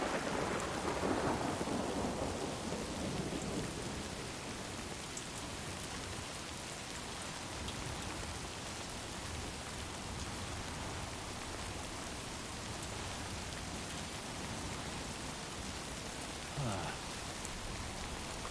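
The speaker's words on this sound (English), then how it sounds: "That chiral rain. Gotta love it." Steady, dense chiral rain pours throughout in the video game Death Stranding 2: On The Beach, with a low rolling rumble of thunder swelling early and a brief fainter rumble near the end, no talk over it.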